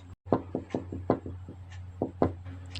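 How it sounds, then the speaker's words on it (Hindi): Sharp knocks on a wooden door sound effect in a horror story narration, about ten raps in irregular clusters, close and fairly crisp over a low steady hum. "उसी वक्त पे फिर से अब दरवाजे के खटखटाने की आवाज़ आती है।"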